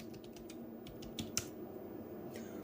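Keys clatter on a computer keyboard as a web address is typed into a browser, a quick run of soft, close clicks with a couple of sharper taps near the end.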